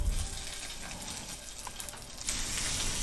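A5 wagyu steak sizzles in a pan, cooking in its own fat with barely any oil: a steady, fairly faint frying hiss and crackle, continuous throughout with no voices.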